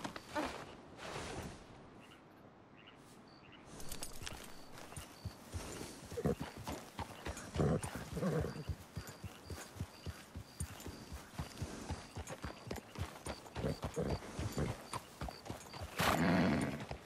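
Horse hooves in the video game Red Dead Redemption 2 clip-clop in a steady trotting rhythm, close and clear, with occasional louder bursts and a whinny-like sound near the end.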